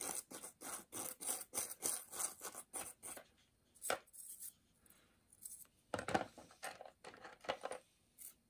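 A brush scrubs cosmoline off a Lee Enfield No1 MK III Ishapore rifle in quick rhythmic rasping strokes, close and fairly quiet, broken by pauses and a later second burst of brushing.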